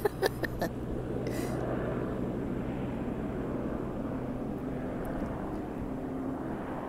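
A camera helicopter flying overhead at a film shoot in Cleveleys gives a steady rotor and engine drone, constant and moderately loud, after a few sharp clicks at the start.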